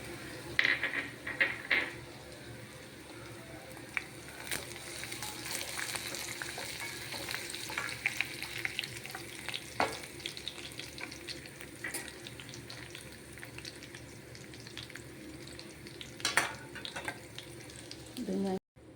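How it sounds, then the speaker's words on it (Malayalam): Onions frying in oil in a pan for a coconut-milk fish curry, with curry leaves added, a long, continuous sizzle broken by scattered clinks and stirring scrapes, plus a sharper crackle near the end. "ഉള്ളി മൂത്ത് ഇപ്പോൾ പാകമായി തുടങ്ങിയിട്ടുണ്ട്. ഇതിലേക്ക് നമുക്ക് കറിവേപ്പില ഇട്ട് കൊടുക്കാം."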